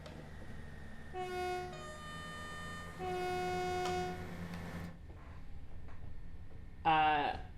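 Train sounds in Train Sim World 3 on the Midland Main Line: a steady engine drone with two sustained horn tones, then a short, sharp horn blast near the end.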